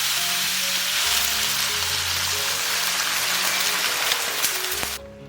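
Beef brisket, splashed with baijiu, is stir-fried in a hot wok with a loud, steady sizzle and faint stirring scrapes, until the hiss suddenly cuts off near the end as boiling water goes in.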